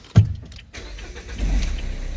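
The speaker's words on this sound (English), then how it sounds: "Yes, the car starts." A Renault Kangoo 2 engine cranks with a short sharp burst, then settles into a steady idle, close by with no talking.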